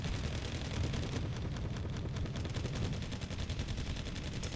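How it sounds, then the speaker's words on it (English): A barrage artillery unit in a strategy video game fires a dense, continuous rumbling roll of shots that holds steady and loud from start to finish. "It's a barrage unit, but actually it seems like it's like a World War I barrage unit where it kills your"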